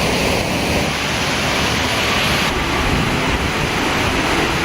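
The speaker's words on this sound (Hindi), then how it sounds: "सड़कों पर जरा पानी की रफ्तार देखिए, इससे आपको अंदाजा होगा इस शहर का हाल क्या है।" Fast floodwater rushes through flooded city streets in China, a loud, steady broadband roar of churning water that holds constant without a break and carries no voices.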